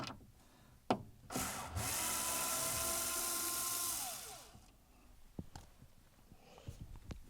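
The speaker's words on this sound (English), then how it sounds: "So we'll go ahead and take this last screw out." A power screwdriver whirs steadily for a few seconds while backing out the last screw from a Stern Tutankham arcade game board, framed by faint knocks and handling clicks in a quiet room.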